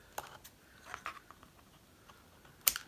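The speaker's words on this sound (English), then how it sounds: "So I'm just going to very carefully cut mine off" Scissors snip through card in a few sparse, crisp cuts, with one sharper snap near the end; otherwise quiet.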